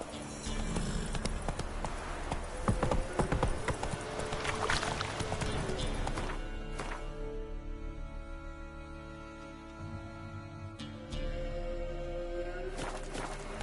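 Roach, a horse in the video game The Witcher 3: Wild Hunt, gallops with steady, quiet clip-clopping hoofbeats. Ambient game sounds play underneath and a voice speaks faintly.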